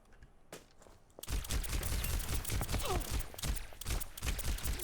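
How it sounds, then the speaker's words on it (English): Rapid, repeated shots from Mercy's caduceus blaster in a video game, loud and steady for most of the stretch after a brief quieter lead-in, mixed with other game effects. "making it much easier to land your blaster fire"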